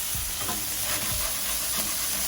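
Smashburger patties sear loudly on a Blackstone griddle, a steady close-up sizzle and hiss lasting throughout with faint scraping and no talk.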